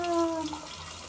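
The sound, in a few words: shower water running over a pet parrot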